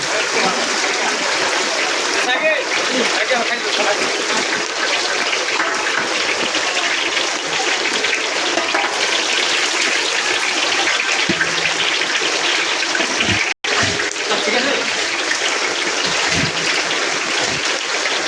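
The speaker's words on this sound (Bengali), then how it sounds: "প্রচুর বৃষ্টি বৃষ্টির পানি যাচ্ছে দিকে" Heavy rain pours down outdoors as rainwater rushes and flows along the ground, making a dense, steady hiss that continues almost unbroken, with one brief cut partway through.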